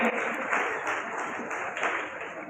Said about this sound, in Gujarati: આપણા માનવંતા મહેમાનોને સૌ પ્રથમ જબરજસ્ત તાળીઓના ગડગડાટથી આપણે સૌ એ વધાવીએ